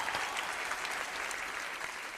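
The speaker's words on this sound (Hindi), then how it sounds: "पर बहुत सारी तालियां फवाद के लिए" Steady, dense applause from a large audience fills an awards show hall at the Lux Style Awards, a continuous crowd clapping heard at a moderate distance with no talk over it.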